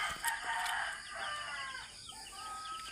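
A pet rooster crows in a backyard among other chickens, a drawn-out, somewhat distant cock-a-doodle-doo over faint farmyard clucking and ambient hiss.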